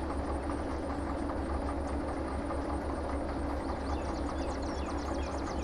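Steady rumble of a train running in a Thomas train video game, a continuous low engine drone with rail noise held at an even level throughout, with no talking.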